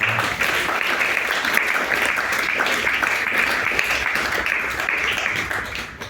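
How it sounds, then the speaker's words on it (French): Loud, sustained applause from an audience for Yop, thick and even throughout, with a bright crackling texture from many hands clapping at once and a brief voice at the very start. "applaudis à Yop un petit peu"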